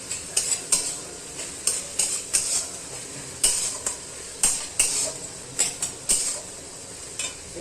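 Spoon stirring salted chicken curry in a hot pan for Bengali-style kosha mangsho, repeated sharp scraping strokes against the metal at an irregular rhythm over a constant background sizzle, close and clear with no talking.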